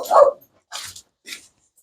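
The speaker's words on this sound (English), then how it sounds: "My wife came home and dog was raising Cain." A dog barks in a woodworking shop, one sharp close bark followed by two shorter, fainter yips with pauses between.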